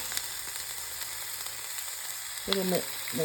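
Broccoli fries in olive oil and is tossed in the pan, a soft, steady sizzle running throughout, with clattering scrapes of tossing near the end.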